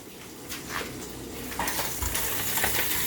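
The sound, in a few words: bacon frying in a pan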